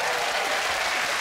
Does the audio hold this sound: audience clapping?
yes